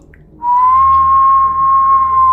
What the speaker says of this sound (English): accompanied by an eerie whistling sound